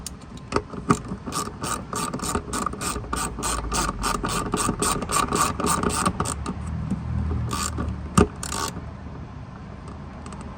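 A hand ratchet clicks rapidly in a steady run of pawl ticks while tightening a connection on a Club Car DS 48V golf cart controller, up close and alone, then stops with a few isolated clunks.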